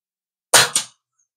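A single sharp, loud shot from a budget PCP air rifle, close by, with a brief crack followed quickly by a second short burst, then silence.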